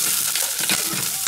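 Carrot hits a pan already frying fresh garlic, spring onion and chili, giving a continuous close sizzle with soft stirring scrapes throughout and no voices.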